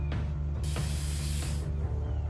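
Spraying sound in the video game inFAMOUS Second Son, a loud hissing burst lasting about a second over a steady low rumbling background with shorter hisses around it.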